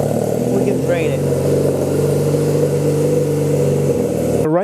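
Honda Rebel 250 motorcycle engine idling to warm up, a steady low rumble throughout, with a brief rising whine near the start and a sharp rising sweep at the very end, close and fairly loud.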